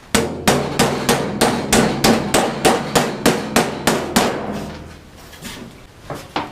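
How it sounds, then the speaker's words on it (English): A hammer strikes the air dam of an RV solar rack in a fast, even series of about a dozen loud, close metallic blows, then pauses before a couple more hits; no one speaks. "use my favorite tool, the hammer."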